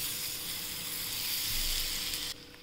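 Slices of raw banana fry in a pan of oil on a medium flame, a dense even hiss of bubbling oil heard close up that cuts off abruptly near the end.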